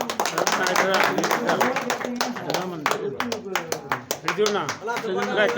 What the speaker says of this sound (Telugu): చప్పట్లు కొట్టాలి అందరి గట్టిగా.